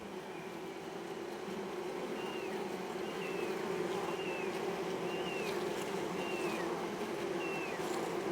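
Steady, dense buzzing of many bees at an apiary, a continuous close hum with faint bird chirps now and then above it.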